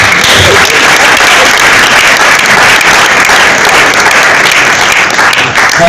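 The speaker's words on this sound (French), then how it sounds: "Sous l'applaudissement" Dense, steady audience applause fills a hall at the first Nzonzing Award ceremony as the expertise prize goes to Da Costa; loud and continuous throughout with no pauses.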